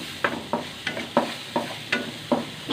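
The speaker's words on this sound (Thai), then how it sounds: "กระเทียมมะเขือ แล้วก็ขิงลงในถาดเลยเนาะ ผัดหอม" Garlic, eggplant, ginger and shallots are stir-fried in a pan, with a wok spatula scraping and tossing in a steady rhythm of about seven strokes over a background of sizzling oil, close and clear with no talking.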